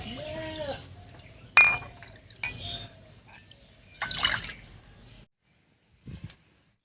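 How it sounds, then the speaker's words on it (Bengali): Water poured into a bowl to make tea, heard as close, intermittent splashes, drips and light clinks, with quiet gaps between bursts and a short final trickle. "প্রথমে আমি বাটির মধ্যে দিয়ে দিচ্ছি দুই কাপ জল"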